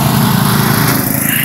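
A riding lawn mower engine drones loud and steady at close range during a mower race, a constant high buzzing roar filling the short moment without any speech.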